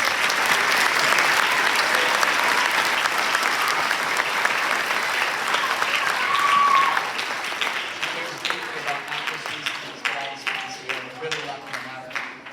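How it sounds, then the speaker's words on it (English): Loud, dense audience applause fills a school concert hall during a middle school band concert, holding steady for several seconds and then thinning into scattered claps as a voice starts speaking over the fading clapping. "Give her a round of applause."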